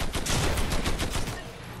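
Fortnite gun firing in a fast, continuous burst, loud and close, with no talking over it, trailing off toward the end.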